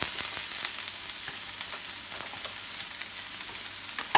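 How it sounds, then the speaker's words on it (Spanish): Garlic, onion and asparagus sizzle steadily in hot olive oil in a pan, a continuous close crackle with small pops and stirring clicks, no voices. "vamos a empezar a sofreír las verduras"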